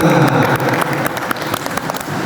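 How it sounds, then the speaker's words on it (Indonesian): Brief applause for contestants at a school quiz competition, a short burst of clapping that thins out quickly. "Tepuk tangan untuk semua peserta"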